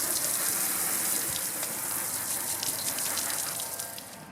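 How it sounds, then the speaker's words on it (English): Water gushes steadily over a car headlight during a foggy headlight restoration, with a loud, continuous hissing spray that eases off slightly toward the end. "Then rinse it off good."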